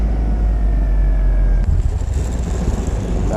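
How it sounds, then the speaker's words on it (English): An RC T-28 Trojan model airplane touches down and rolls to a full stop, a loud continuous engine drone with wind-like rumble that drops off abruptly partway through, leaving softer rolling noise. "That was a lot nicer than any other landing I've done in terms of doing a complete stop"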